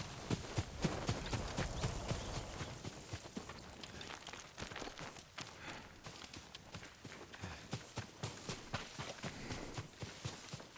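Horse hooves clip-clopping at a steady trot in the video game Ghost of Tsushima, a crisp, regular beat of hoofbeats close by and moderately loud, with no talk over them.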